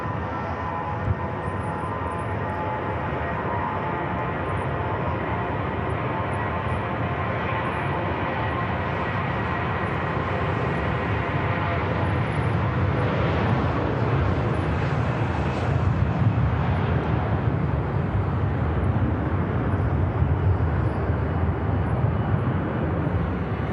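A Vueling airliner with IAE engines takes off from runway 05 left at Manchester Airport, a loud, steady jet roar that holds for the whole stretch and swells slightly as it passes nearest.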